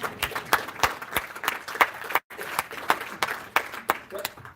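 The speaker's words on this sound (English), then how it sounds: "Give yourself a round of applause in advance" A crowd at a New London, New Hampshire town hall claps in a loose, uneven round of applause, individual sharp claps standing out near the mic, with a brief dropout partway through.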